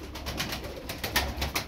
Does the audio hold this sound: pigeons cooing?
yes